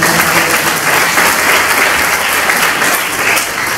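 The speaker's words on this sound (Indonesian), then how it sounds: "Boleh berikan tepuk tangan." A church congregation at GPdI Tidar Kertosono claps in loud, dense, sustained applause that holds evenly throughout.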